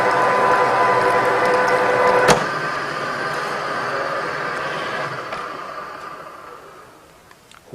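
Ridgid 1224 power threading machine threading pipe, its motor running in a steady mechanical drone with a sharp click partway through, then winding down and fading near the end.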